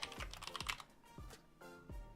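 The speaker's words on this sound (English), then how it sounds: "Straight up typing Zeus logo." Fingers tap on a computer keyboard in short bursts of quick, clicky keystrokes separated by brief pauses, close and moderately quiet, with no talking.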